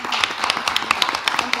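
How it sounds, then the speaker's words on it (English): A room of people at a student association election meeting claps together, a dense, fairly close patter of hands lasting under two seconds. "so a round of applause as well"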